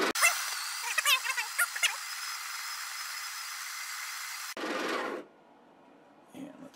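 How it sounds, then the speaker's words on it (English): Breville BES870XL espresso machine's built-in burr grinder running at close range, a loud steady whirring drone with clicks near the start, cutting out after about four and a half seconds, then a short further burst and faint handling noises. "you need to do that while the grinder is running"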